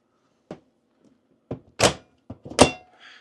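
Sliding cabinet doors above the stovetop in a 2006 Prevost Liberty motorhome kitchen move and shut with a series of sharp wooden thunks and clacks, several distinct close knocks over a few seconds.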